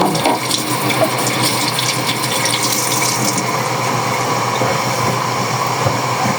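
Water runs steadily from a leaking household faucet, a continuous close hiss and splash holding at an even level throughout with no voices.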